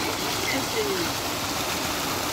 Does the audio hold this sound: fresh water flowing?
yes